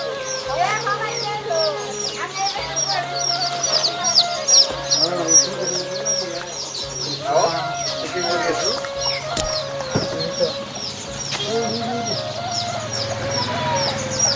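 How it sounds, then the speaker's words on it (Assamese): Local chickens cluck and chicks peep in quick, repeated bursts close by, with a persistent low hum and occasional voices in the background. "এইটো লোকেল মুৰ্গী আছে।"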